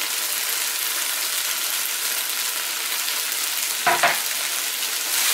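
Carrots sizzle steadily in a hot frying pan, a dense close hiss broken briefly by a stirring clatter near the end, with no talking over it.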